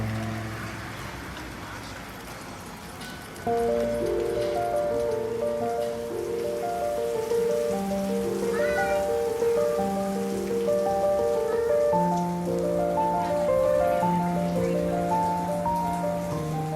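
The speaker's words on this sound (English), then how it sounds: "out of nowhere it started raining, pretty much shutting down the whole resort town" Rain falls steadily across a hot, humid beach resort town in Ocean City, Maryland, giving a continuous patter on surfaces beneath a layer of louder tonal music.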